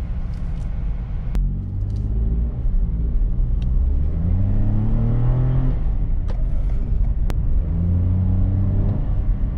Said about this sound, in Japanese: 信号が青になり加速してみたところ、アクセルの踏み込みに対し1テンポ2テンポ遅れてから加速します。